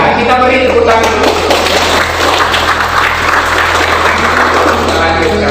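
A church congregation applauds during a sermon, dense continuous clapping with voices mixed in over a low steady hum.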